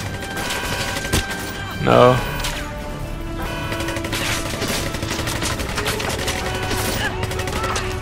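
Gunfire in the James Bond 007 Legends video game: sharp scattered shots and bursts over a busy battle din, with a voice briefly heard.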